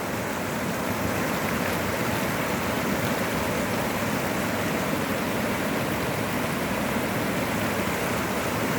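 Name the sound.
flooded stream rushing water after heavy rain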